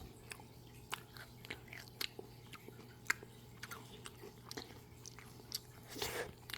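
Soft, close crunching bites and chewing on a hamburger-shaped vanilla ice cream with a crisp shell, scattered irregular crackles over a quiet background, ending in a slightly louder crunch.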